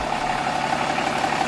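A 3rd-generation Megacab pickup's engine idles steadily after a cold start, a continuous close, even rumble with no break across the short stretch.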